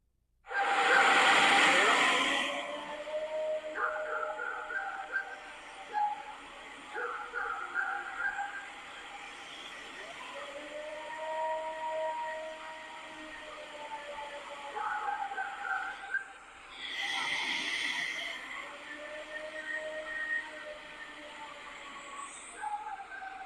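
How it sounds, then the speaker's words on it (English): A recorded moaning howl credited to Bigfoot rises and falls in long wavering tones, siren-like, with two loud rushing bursts at the start and again near the end. Faint sounds drift through the quieter middle. "the first moaning howl that they're crediting Bigfoot"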